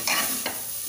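Masala with onions and whole spices roasts in a pan, giving a steady loud sizzle with two quick scraping strokes of a spoon stirring it close by.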